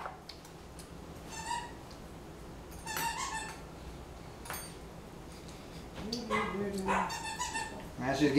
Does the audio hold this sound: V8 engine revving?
no